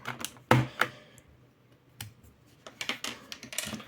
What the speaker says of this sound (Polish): Dość charakterystyczny dźwięk, czyli dość głośny, przypominający maszynę do pisania.